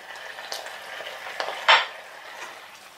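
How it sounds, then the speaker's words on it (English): Prawn stir fry sauce thickened with corn flour is stirred in a pan, soft scraping and low sizzle running throughout, with a few utensil knocks and one sharper clatter near the middle. "Mix and stir again."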